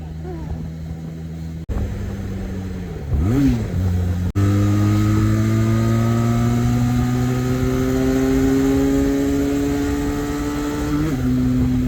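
A motorcycle engine on a group ride to Sauthadka Temple, loud and close, dips briefly, then climbs steadily in pitch as the bike accelerates through the gears in a long, strong pull.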